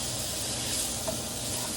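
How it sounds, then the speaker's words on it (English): Cut peppers sizzle steadily in a hot pan seasoned with jerk seasoning, a continuous close hiss of frying with no breaks or voices. "we're gonna add our veggies, our cut up peppers, and go ahead and let it cook down in there"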